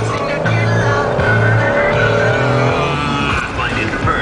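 A car accelerates hard from a standstill up to 40, its engine note rising and straining loudly through the gears while talk carries on over the roar.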